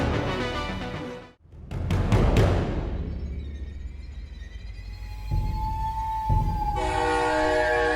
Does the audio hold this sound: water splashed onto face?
no